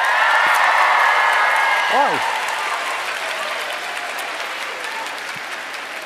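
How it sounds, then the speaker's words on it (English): A concert audience at the 2019 finalists concert breaks into loud, sustained cheering and applause that slowly fades. A brief exclaimed voice cuts through partway in. "That is a very big cheer"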